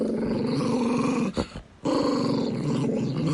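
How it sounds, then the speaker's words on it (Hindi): A dog growls in a low, continuous rumble that fills most of the moment, broken briefly by a short catch of breath before the steady growl resumes. "कुत्ता धीरे से घुर्राया।"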